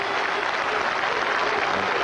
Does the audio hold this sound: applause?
yes